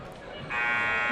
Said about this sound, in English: They love cranking on that buzzer.